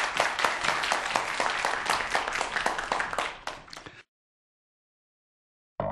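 Audience applause after a call for a big round of clapping at a lecture hall talk on mathematics and culture, dense and steady for several seconds, fading out, then breaking off into silence.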